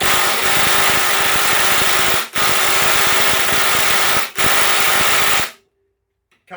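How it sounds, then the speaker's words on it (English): A DeWalt impact driver hammers loudly and continuously at a Ryobi screw, a harsh rattling roar with two brief pauses before it cuts off into near silence. "let's see if the D-Walt can remove the Ryobi screw"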